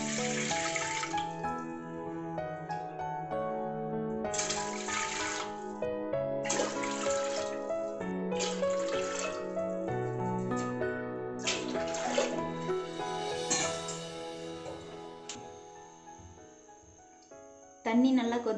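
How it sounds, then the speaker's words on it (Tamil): Water poured into a cooking pot while making green gram (pachai payaru) lentil curry, a steady continuous pour heard close up for most of the stretch. "இதில் 5 டம்ளர் தண்ணி ஊற்றிக்கணும்."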